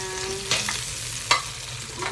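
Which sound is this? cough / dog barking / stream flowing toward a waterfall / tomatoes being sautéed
tomatoes being sautéed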